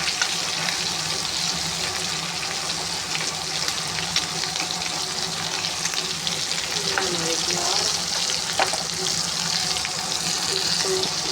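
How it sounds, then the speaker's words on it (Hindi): Aloo matar tikki vegetable kababs frying in oil in a pan: a steady, loud, continuous hissing sizzle with faint occasional scrapes, and no pauses. "साइड से थोड़ा सा फ्राई करेंगे क्योंकि अंदर और चीज़ें सारी मेरी पकी हुई हैं।"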